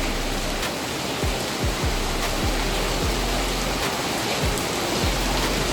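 Late-night downpour rushing without pause, a thick broadband hiss, with a few scattered heavier drops tapping close by and no one speaking.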